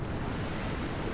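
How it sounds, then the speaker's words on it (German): In the video game GTA 5, a car plunges into water, heard as a steady, dense wash of splashing, surf-like noise with no clear break across the short moment. "Ich bin ins Wasser geflogen, schnell raus!"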